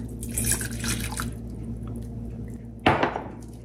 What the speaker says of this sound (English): In a saucepan, we're going to add the lemon juice,